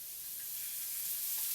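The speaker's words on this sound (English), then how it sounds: "into that nice hot pan already sizzling" Olive oil sizzles in a hot pan, a brief, even, bright hiss that swells slightly and stays steady throughout.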